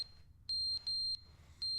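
A smoke detector in The Stanley Parable gives several sharp, high electronic beeps, each pulse short and separated by short gaps, over a quiet background hum.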